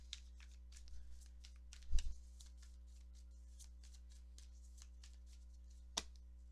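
Tarot cards are shuffled and cut with soft, papery riffling over a low steady hum, marked by two sharper snaps as the deck is tapped and split.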